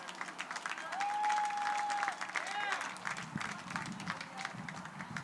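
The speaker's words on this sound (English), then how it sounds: "A round of applause for the seniors from Southwestern." Crowd applause at an NCAA softball game between Trinity University and Southwestern University, honoring the Southwestern seniors; steady, moderately loud clapping across the stands with a faint whistle and voices mixed in.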